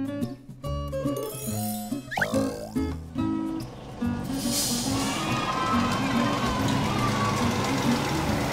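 A bus engine rumbles under a children's song, entering after a few seconds of tinkling music as a broad, steady engine noise that carries on beneath the melody to the end.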